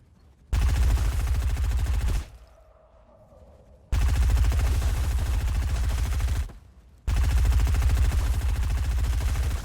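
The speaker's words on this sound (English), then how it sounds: "I am going to go a bit closer and use the SMG for a little bit" SMG gunfire in the video game Fortnite: three sustained, loud bursts of rapid automatic fire, each lasting about two seconds, separated by short pauses.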